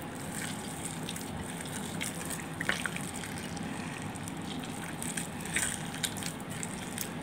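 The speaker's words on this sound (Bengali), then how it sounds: "তারপরে ভালোভাবে এভাবে কষলিয়ে কষলিয়ে রসগুলো বের করতে হবে" Palm fruit pulp squeezed and rubbed by hand in a glass bowl of water gives a steady wet sloshing and trickling, with a few small splashes and drips standing out over the continuous churn.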